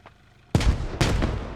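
Two heavy gunshots in a multiplayer scrim match, about half a second apart. Each is a loud close blast followed by a rumbling tail, with no voices.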